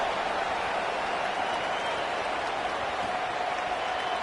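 Home crowd in a Madden football video game, steady loud cheering and applause filling the stadium without a break.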